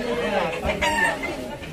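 A chicken clucking close by, a short burst of fowl chatter under people talking.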